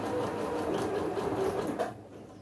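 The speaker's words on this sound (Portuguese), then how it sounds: "vou terminar essa minha costura" A sewing machine runs steadily, stitching a fabric hem at close range, its continuous whir lasting about two seconds before it stops abruptly, with no talking.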